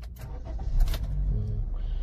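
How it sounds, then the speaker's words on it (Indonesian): A 2015 Honda Mobilio RS with CVT starting up, a steady close engine rumble that settles into a continuous idle after the crank, with no talk. "sekarang saya akan hidupin mobil ini ya"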